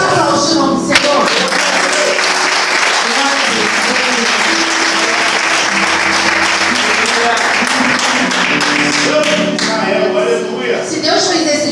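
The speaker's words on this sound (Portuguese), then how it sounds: "Você pode aplaudir o nome do Senhor?" A church congregation claps for the Lord during a sermon, with steady, dense applause filling the whole stretch while voices carry over it.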